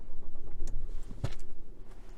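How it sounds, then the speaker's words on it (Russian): A Geely Coolray crossover's engine fires up close by, with a sharp click as it starts and then a low, steady rumble of idle under a faint ticking. "Мы заводим с вами автомобиль."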